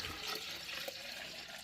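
Water drained from freeze-dried pears and cantaloupe pours steadily into a pitcher, a soft continuous splashing trickle that stays quiet throughout.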